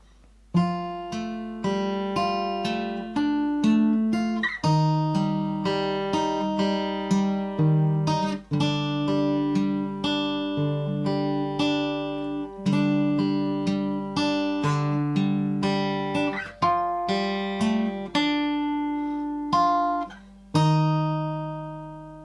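Guitar plays the C section of a piece from The Last of Us Part II: a steady run of clear plucked notes and ringing chords, close and alone, with the final chord left to ring out.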